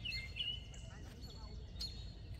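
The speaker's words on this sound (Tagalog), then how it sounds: "Ni-welcome, kaya pala naghuni-huni" Small birds chirp with thin, high tweets in a park, a few brief calls over a low rumble of background noise while a person speaks.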